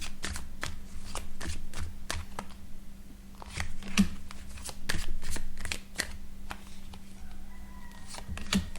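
Tarot cards shuffled repeatedly in a close ASMR setting, giving a run of crisp riffling and flicking bursts with short pauses between them and a steady low hum underneath. No voice is heard.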